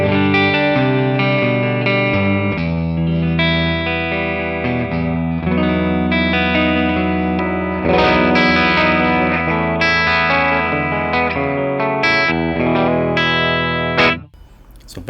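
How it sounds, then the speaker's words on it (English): Clean electric guitar through a Tonex amp capture from an overdrive pedal kit, unclipped, played as sustained chords and picked notes, loud and close with slight chorus and echo shimmer, alone, ending abruptly. "the clean sound, the main clean tone of the amp capture is like this"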